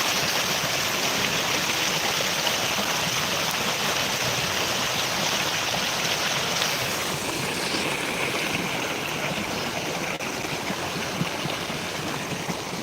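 Flood water rushing steadily across a flooded crop field, a continuous loud broadband wash of flowing water with no pauses, close by and alone without talk.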